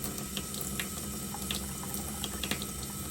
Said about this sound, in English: come over here to the water spigot and give it a whirl